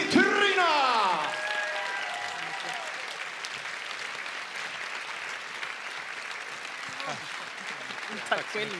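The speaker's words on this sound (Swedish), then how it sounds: "En stor applåd för Peter och Petrina!" A large audience applauds at the Faktumgalan 2018 gala in Sweden. A voice is heard briefly at the start, then sustained, even clapping continues steadily throughout.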